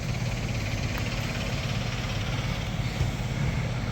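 A K20 engine idles while fed from a newly installed gas tank, giving a steady, close, even rumble with a slight rhythmic pulse and no talking.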